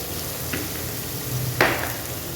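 Cumin seeds dropped into hot oil, crackling and sizzling steadily in a pan with a sharper burst of frying partway through, close and without talk.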